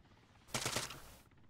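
A burst of rapid gunfire from an enemy vehicle in a video game, one loud, close volley of about three-quarters of a second that cuts off abruptly, with no talking.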